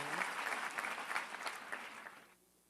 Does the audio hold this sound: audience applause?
yes